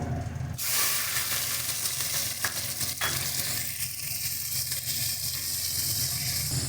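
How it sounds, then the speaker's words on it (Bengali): Prawns frying in hot oil, a loud steady hissing sizzle that starts with a burst and continues, with a couple of faint stirring knocks. "এবারে চিংড়ি মাছগুলো দিয়ে ভেজে নেব।"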